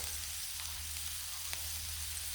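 Minced California garlic sizzling on a hot Blackstone griddle, a steady close crackle and hiss running without pause and with no talk.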